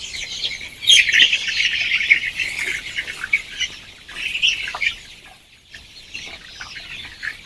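Young roosters raised as broiler cockerels squawk and cluck repeatedly, loud and close, in a busy overlapping flock chorus with short bursts and brief pauses.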